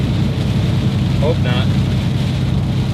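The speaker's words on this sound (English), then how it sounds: "Anyhow, rain." Rain falls steadily on a vehicle driving through Arizona, a dense continuous hiss and patter mixed with road rumble, with a brief spoken remark inside the car.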